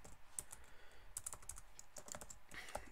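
Typing on a computer keyboard, a quick irregular run of light clicking keystrokes, close and quiet with no talk.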